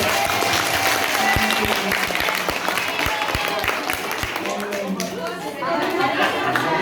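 An audience gives a round of applause, steady clapping mixed with sharp individual claps, with chatter and a few voices running underneath.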